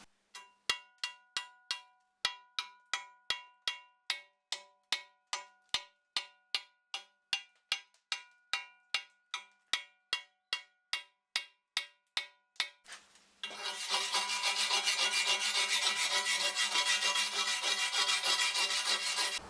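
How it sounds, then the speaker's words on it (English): A small welding hammer chips slag off a fresh weld in a run of sharp, evenly spaced metallic taps, close and loud, then gives way to a steady harsh rasping noise. "So on my little hammer I have that little metal thing, that's for breaking off slag."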